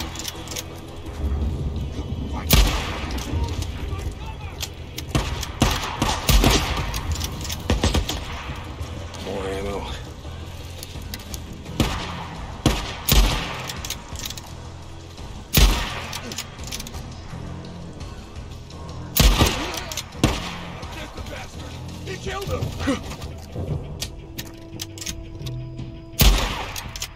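Gunfire in the Days Gone game at Copeland's camp: scattered sharp shots and short bursts spread across the scene, mixed with mechanical clatter and engine-like rumble, with shouting voices over the action.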